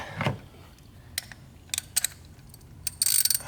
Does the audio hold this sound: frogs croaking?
no